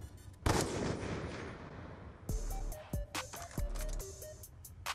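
Gunfire in the video game Black Ops 2: one sharp, loud shot with a decaying tail, then a few more crisp reports spaced apart amid game effects.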